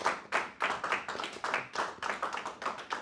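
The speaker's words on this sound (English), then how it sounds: "Please, a round of applause for our Governor Aspirant." Close, steady clapping from a small audience greeting a Labour Party governorship aspirant at an Edo State Q&A event, a dense run of sharp hand claps lasting a few seconds with no talk over it.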